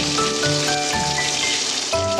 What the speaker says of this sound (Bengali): এই দেখুন ডিমটা আমি একটু ভেজে নেব।